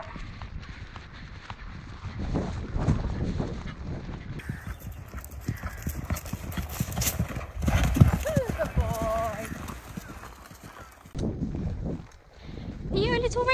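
A horse during cross-country schooling, with rhythmic clip-clop hoofbeats on the ground, close and steady, and a brief whinny, while a rider talks over the movement throughout.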